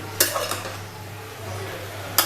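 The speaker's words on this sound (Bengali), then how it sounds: "এবার শাকের সাথে আমি বাকি সবজিগুলো মিশিয়ে দেব।" Vegetables being mixed into cooked pumpkin greens in a pan, with two sharp utensil clanks against the pan and soft stirring between them.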